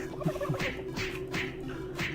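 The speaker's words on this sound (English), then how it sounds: "That's all you do is punch the turkey." A turkey gobbles in the video game Doom 3, a rapid warbling call repeated in short bursts over a steady low game hum, with no voices.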